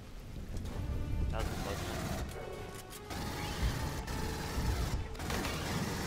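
Gunfire and explosions in Aliens: Colonial Marines co-op combat, a dense rattle of bursts with crashes and impacts under players' excited talk.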